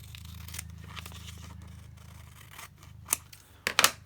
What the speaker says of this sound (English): I'm just going to trim it off where that flap is there